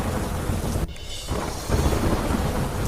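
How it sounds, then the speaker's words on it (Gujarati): Rain begins falling under dark storm clouds as thunder rumbles, a dense, steady hiss of rainfall with a loud crack of thunder early on, close and continuous, with no voices. "કાળા ડિબાંગ વાદળો વચ્ચે શરૂ થયો વરસાદ"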